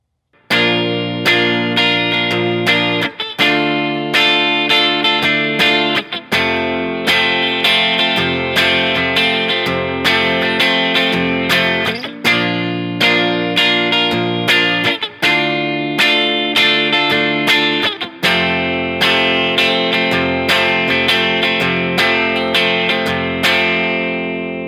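An electric guitar run through effects plays the chords of a song, a distorted, sustained strummed progression with regular chord changes every few seconds, loud and alone for the whole stretch.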